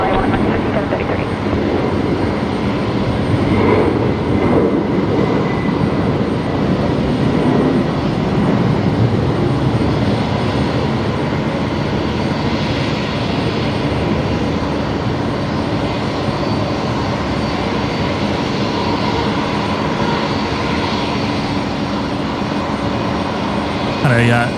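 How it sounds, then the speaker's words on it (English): A Boeing 737-700 idles after pushback at Brisbane Airport, its engines a steady, broad roar holding level throughout, with voices talking over it. "A 737-700 there, just pushed back in front of me."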